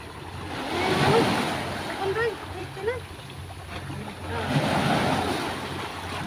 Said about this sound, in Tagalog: Makas na ang alon mga bro.